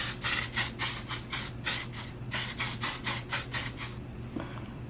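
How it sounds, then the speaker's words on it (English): A can of drugstore makeup setting spray is misted onto a face at close range, about a dozen quick hissing bursts in a steady rhythm, a short pause, then more spraying before it stops. "So let me just spray this on."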